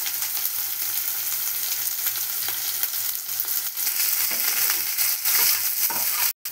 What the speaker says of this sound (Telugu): కరివేపాకు వేసుకున్నాము, వేసుకున్నాము. ఇది బాగా 2 నిమిషాలు బాగా వేగాలి.